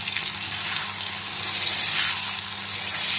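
Chicken pasta sauce with tomato puree and oregano cooks in a pan, making a steady, moderate bubbling sizzle with a watery hiss throughout and no talk.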